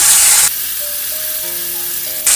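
Masala paste drops into hot oil in a pan while cooking aloo dum, bursting into a loud, hissy sizzle that softens into a low simmer with faint tones, then flares up again at the end.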